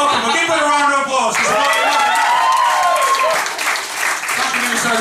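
Audience applause at a stand-up comedy show, a loud sustained wash of clapping close to the microphone with someone talking over it.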